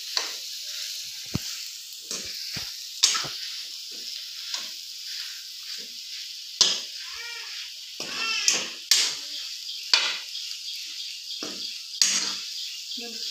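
Potato bhaji filling for vada pav being stirred and mixed in a hot pan, a steady sizzle broken by repeated scraping strokes of a spoon against the metal, close and fairly loud, with no voices over it.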